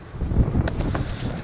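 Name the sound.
wind blowing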